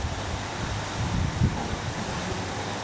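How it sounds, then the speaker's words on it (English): Wind blows steadily across an outdoor microphone on a summer day, a continuous broad rushing roar with low buffeting gusts and no clear voices. "It's so windy."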